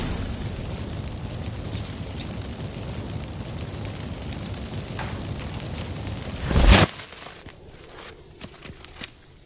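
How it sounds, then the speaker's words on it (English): A single loud magical burst goes off from activated incense in The Witcher 3, following a stretch of steady low rumbling ambience and trailing into quieter crackles. "Get ready for some magic fireworks."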